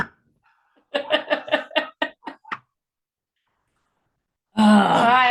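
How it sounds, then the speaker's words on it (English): A pet dog barks from another room in a run of about eight muffled, evenly spaced barks that trail off and stop. After a pause, a loud, close voice speaks over them. "You probably can still hear her barking even though she's in the other room"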